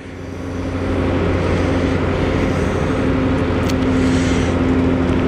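1990 Mazda Miata MX5 cruising at around 50 mph, a loud steady engine drone with road and wind rush that builds in the first second and then holds even, no talking.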